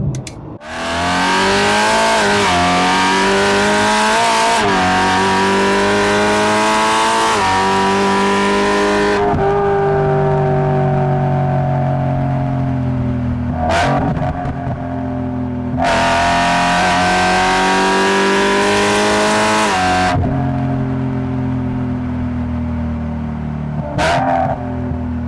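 A 625 hp BMW E92 M3 exhaust revs hard and loud, climbing and dropping in pitch over several long pulls, with sharp pops between revs and no talking.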